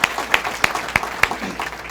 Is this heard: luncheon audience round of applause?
yes